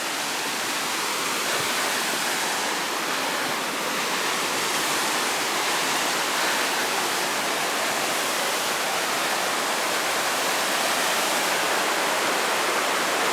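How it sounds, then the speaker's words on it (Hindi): Near a waterfall on a hill path around Mcleodganj, falling water roars in a steady, dense wash that fills the whole stretch without pause. "ये है वाटरफॉल।"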